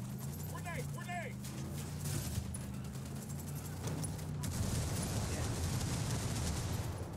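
Gunfire and a grenade blast in the video game Ghost Recon Wildlands, a steady rumble of shooting and explosion noise that grows denser toward the end, under spoken voices.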